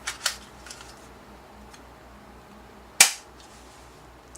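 A BB gun fires two sharp, loud snaps close by, a couple of seconds apart, with a few fainter clicks and handling noises in between against a quiet background.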